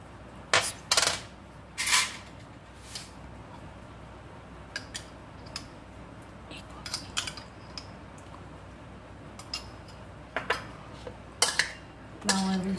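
Spoon clinking and scraping against a bowl while boiled, blanched corn is mixed with mayonnaise, in short irregular bursts of clatter over a quiet background.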